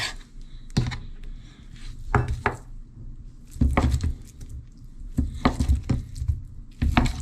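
Vegetables diced for a stir-fry on a cutting board, knife strikes landing in irregular close bursts of several quick chops with short pauses between.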